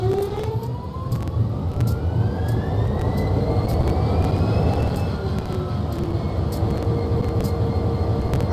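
A diesel locomotive engine idles and rumbles in Train Sim World 2 on the Clinchfield Railroad, a loud steady drone with rising whining tones and intermittent clicks, no voices.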